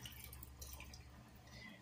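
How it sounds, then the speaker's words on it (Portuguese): Water is poured into a pot of vegetables cooking for a pork rib dish, a steady close splashing and trickling with faint dripping throughout, no voices. "Vou acrescentar um pouquinho de água aqui para"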